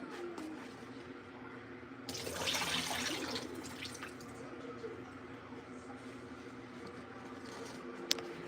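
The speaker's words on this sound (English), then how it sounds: "Go ahead and dump this water out." Water is dumped from a coffee kettle into a sink, gushing for about two seconds, then trailing off into a faint trickle against a low background hum.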